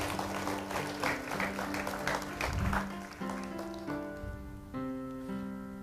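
Applause from an audience at an Indonesian seminar-style gathering, dense and steady throughout, with background music tones running beneath the clapping.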